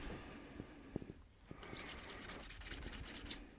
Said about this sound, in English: you need to deburr them. A relatively coarse silicon carbide stone works very well